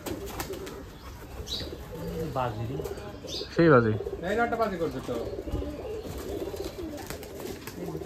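Rajshahi Giribaj pigeons coo in a pigeon loft, with several rising-falling calls spread through the clip over steady background noise, while people talk nearby throughout.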